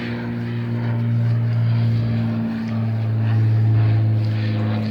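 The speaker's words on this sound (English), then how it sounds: "let me wait till this plane goes by" A steady propeller-plane drone hums throughout, a low sustained engine tone that swells slightly louder toward the end as it passes.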